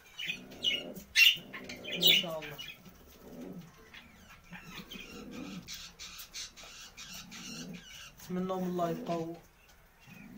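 Caged goldfinches and budgies chirp and coo in short bursts close by, alternating with someone talking between the calls.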